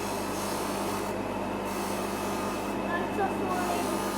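Steady rubbing, rasping friction of a watch case being polished on a soft buffing setup to take out scratches, continuous and close throughout with a faint hum underneath.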